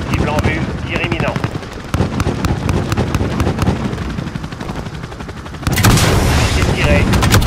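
A helicopter gunship fires in Call of Duty Modern Warfare, with continuous rapid gunfire and heavy impacts over rotor noise that swell into a louder blast near the end, while radio voices talk over it.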